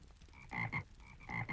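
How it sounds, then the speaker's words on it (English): A pond frog pet in the online game Lord of the Rings Online croaks in two paired bursts, each a double throaty ribbit, close and clear with no talk over it. "Okay, so I got my pond frog here."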